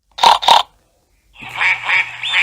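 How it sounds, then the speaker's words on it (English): Cartoon ducklings stuck on a roof in a Peppa Pig episode give two loud, quick quacks, then a short pause, then a longer run of rapid, high, squeaky quacking up close. "There are some ducklings stuck on our roof"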